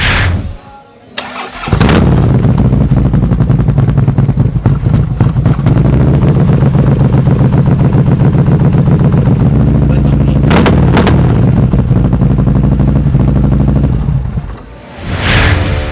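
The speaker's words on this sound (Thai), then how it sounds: "ว่าตัวนี้เป็นคันแรกเป็น CVO เนี่ย เสียงเป็นยังไง" A Harley-Davidson CVO Touring motorcycle with a Freedom exhaust starts up loud and close, then idles with a deep, lumpy rumble. It is blipped partway through, and the engine dies away near the end.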